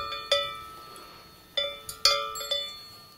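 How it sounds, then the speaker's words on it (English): A small cowbell, one of a set of three bells, rings out in a few separate clear metallic strikes, each with a bright, ringing decay, heard alone and fairly quiet. "Oh, I love the cowbell."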